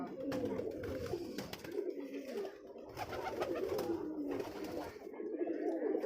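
A jack pigeon coos inside its coop in Rajshahi, a steady run of low, rolling coos close by with soft bird calls around it.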